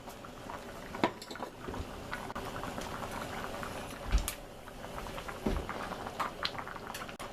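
Soup with fish broth simmers in a pot, bubbling and popping continuously at close range with irregular louder blips over a soft liquid patter.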